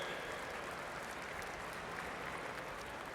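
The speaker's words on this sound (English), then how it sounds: "I just want to give a round of applause to all the players." Sustained crowd applause at an NFL Draft during the 2nd and 3rd rounds, a dense, steady wash of clapping from a large audience that holds at an even level throughout.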